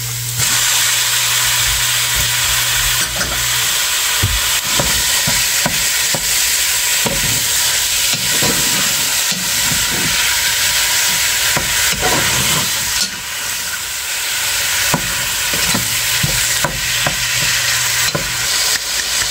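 Pork sizzles in a pan with softened onion, a loud continuous frying hiss broken by repeated scraping and knocking strokes of a spoon or spatula as it is stirred, no talk.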